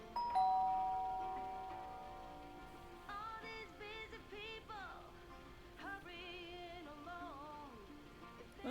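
A doorbell rings at a house in the video game Lake: Season's Greetings, a single clear chime that slowly fades before wavering melodic tones follow, quiet throughout.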